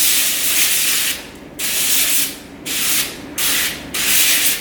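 Four short, loud hissing bursts of spray oil, spaced about a second apart, as avocado oil is sprayed onto a parchment-lined pan; no one speaks.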